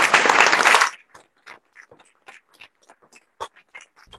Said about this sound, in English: Audience clapping.